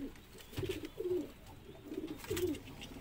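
Lal Shirazi pigeons, a breeding pair, cooing close by in soft repeated rolling coos with short pauses between calls.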